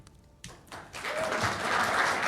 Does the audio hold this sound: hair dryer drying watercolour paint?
no